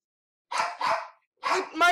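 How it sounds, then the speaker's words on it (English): Dogs barking nearby: three sharp, separate barks with short pauses between them, the last one higher and more whiny. "the dogs are distracting me"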